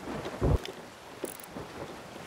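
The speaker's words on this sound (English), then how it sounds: "Storm is coming after me." A storm at sea in Sea of Thieves, with a short deep rumble of thunder over a steady hiss of rain and a few faint splashes.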